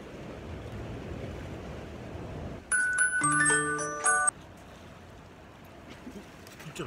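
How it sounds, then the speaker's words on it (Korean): Ocean surf at a sea-fishing spot washes steadily with rough wind buffeting the microphone, and a short melodic electronic chime rings out partway through before the waves continue alone. "파도 소리 크니까."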